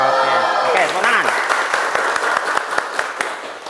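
Applause from a classroom of students, dense clapping that starts under a voice and continues steadily with sharp individual claps standing out near the end.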